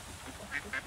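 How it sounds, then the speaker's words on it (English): Ducks quacking on a farm in the Coral Island game: two short, faint quacks near the end over a low, soft background. "Bunch of duckies, a bunch of chickens."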